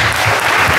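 Brief, dense clapping from a church audience at a couples' gathering, loud and close, cut off after less than a second.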